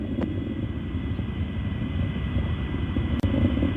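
Soyuz MS-26 rocket a minute into its launch, a steady, dense low rumble and roar that holds without break throughout.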